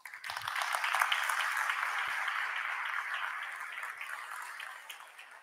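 A conference audience applauds steadily for several seconds, a dense patter of clapping that swells early and slowly fades toward the end.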